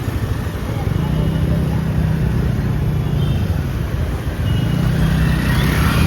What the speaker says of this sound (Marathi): आज खूप ट्रॅफिक आहे